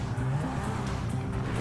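Car tires squeal and skid in Grand Theft Auto V, a continuous screech over a racing engine, fairly quiet and with no one talking.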